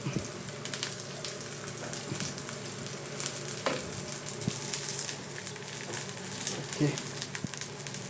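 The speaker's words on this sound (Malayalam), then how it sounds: "ആദ്യം ഉള്ളി ഇങ്ങനെ ഇട്ട് കൊടുക്കാം" Onions dropped into a hot pan sizzle and crackle steadily for several seconds, a close, moderate frying hiss with scattered clicks and light utensil contact, with faint background noise throughout.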